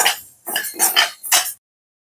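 Moong dal roasting in a pan on a stove set to low flame, heard as four short, close scraping and rattling bursts separated by brief pauses, then silence.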